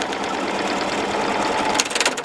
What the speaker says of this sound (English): Something's gone funny with the sewing machine.